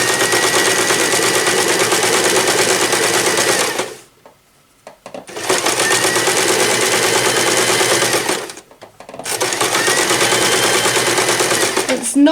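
A home sewing machine runs steadily while stitching over a seam on a drawstring bag, a loud, fast, even chatter in two long bursts separated by brief pauses and a short quiet stop.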